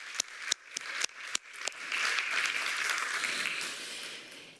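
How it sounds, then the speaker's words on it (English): Applause from a conference audience at a coffee sustainability contest, starting with a few sharp, separate claps that build into a steady, moderately loud round of clapping. "So big applause for all our sponsors."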